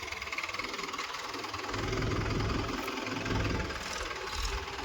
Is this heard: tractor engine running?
yes